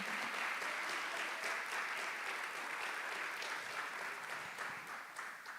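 Sustained applause from an audience honoring teachers at a literary authors' panel during FLISOL 2024 in Araraquara, steady, fairly distant and soft, tapering slightly toward the end.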